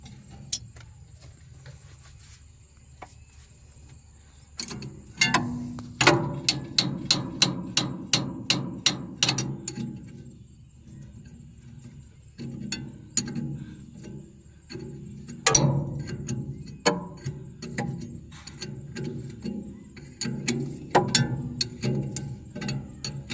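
Screws being tightened on the sprocket bearing of a cement mixer, heard as a run of close, sharp metallic clicks and taps in quick bursts with pauses between, like a ratchet or light hammering.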